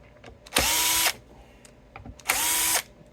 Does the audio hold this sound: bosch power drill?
yes